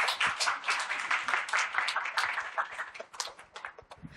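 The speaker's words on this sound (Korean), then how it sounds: "박수로 맞이해 주세요." An audience claps to welcome a guest author at a talk event, a short burst of dense, moderately close applause lasting a few seconds and tapering off.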